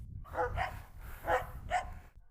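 Cane corso dogs bark in short bursts at moderate distance, three or four separate barks spaced across a couple of seconds over low background rumble.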